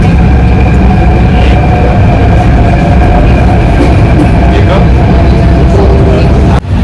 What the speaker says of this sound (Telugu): ఇప్పుడు మెట్రో ఎక్కి వెళ్తున్నాము.